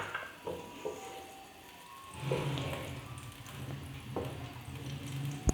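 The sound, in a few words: desi ghee melting and sizzling in a pan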